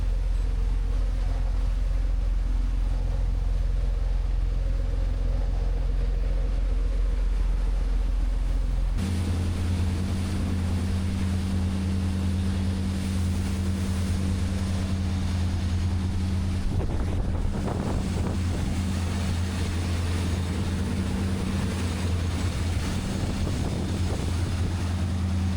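A rebuilt yacht cruises at about 22 knots with its engine turning around 1930 RPM. A deep, steady engine drone and hull rumble run throughout under strong wind buffeting, and the rush of water grows rougher partway through.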